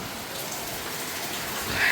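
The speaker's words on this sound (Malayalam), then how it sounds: "മഴയാണ്" Steady rain falls throughout in Kannur, Kerala, a continuous even hiss of drops on surfaces, with a slight swell near the end and no voices.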